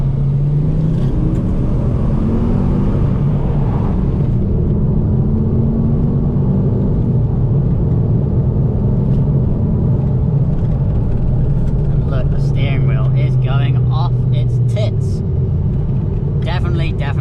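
Ford Focus ST with an Xforce catback exhaust pulls hard in second gear on a back road, a continuous loud engine drone with rising tones inside the cabin.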